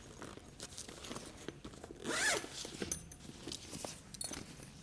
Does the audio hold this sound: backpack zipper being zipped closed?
yes